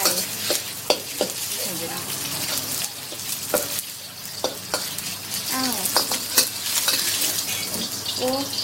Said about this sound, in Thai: เริ่มจากใส่หมู ใส่หมูนะคะ ผัดเข้าไป